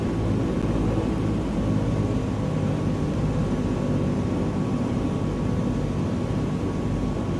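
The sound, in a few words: propeller aircraft engine in video game Microsoft Flight Simulator 2020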